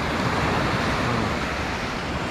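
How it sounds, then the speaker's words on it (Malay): Seawater moves in with the rising tide on a shore after rain, a steady, dense wash of surf noise with no distinct breaks, heard alone. "Air bergerak pasang."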